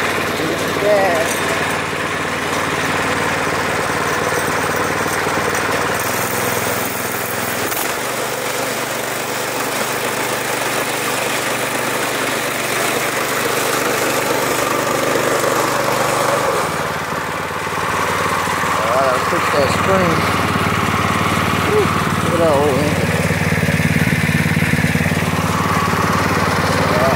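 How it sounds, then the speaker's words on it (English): A small engine runs steadily and close, with a constant low drone and mechanical rattle throughout and a pitch shift partway through, while people talk over it. "There's that engine, it's running."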